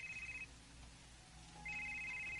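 A cellphone rings in a Filipino drama scene, its electronic tone repeating loudly in two bursts with a pause between, over a soft background hiss.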